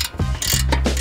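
A wrench works loose the 16 mm bolts on an Audi B9 S4/S5 multi-link suspension arm, giving several close, loud ratcheting clicks and metallic scrapes in quick bursts, with no talking.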